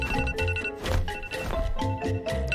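A mobile phone rings with a repeating musical ringtone, loud and near, steady melodic phrases over about two and a half seconds with no talking.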